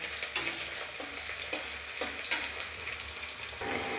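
Onions fry in oil with a low, continuous sizzle, punctuated by several soft clacks and scrapes as they are stirred at irregular intervals.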